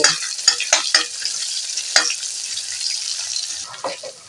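Seven or eight garlic cloves frying in oil with black cumin seeds, a steady close hiss of sizzling broken by a few spoon taps and stirring scrapes.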